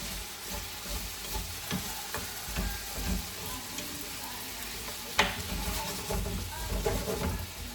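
A breakfast dish frying in a pan is stirred, giving a soft steady sizzle with scattered scrapes and one sharper knock of the utensil, quiet and close with faint background murmur.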